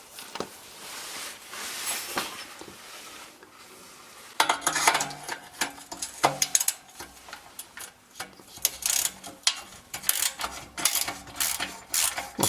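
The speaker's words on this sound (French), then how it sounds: "je vais prendre avec la douille longue et je vais desserrer" Ratchet with a long socket loosening an exhaust bolt on a 1990 Renault Super 5, heard as close, irregular bursts of metallic clicking and scraping, quiet at first, then louder and busier clatter from about four seconds on.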